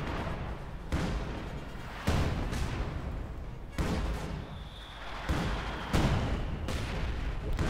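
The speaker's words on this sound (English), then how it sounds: "We got a barrage going in there, trying to maybe calm down some enemy artillery there." Artillery barrage in a Company of Heroes 2 match: heavy booms land every second or so, each a loud broadband blast with a rumbling tail, repeating steadily through the stretch with no talk over it.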